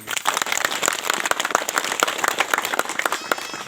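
Villagers gathered at the Mudma Sarna site in a Kurukh village crowd clap together in a lively, uneven patter of many hands at moderate distance.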